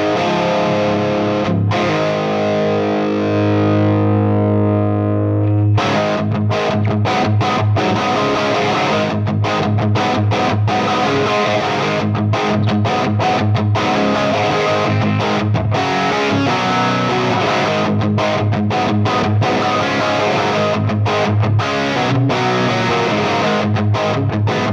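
Electric guitar played through a distorted amp preset on a Tonex One pedal, first a sustained chord, then choppy, rhythmic distorted riffing with short stops, loud and close with no talking.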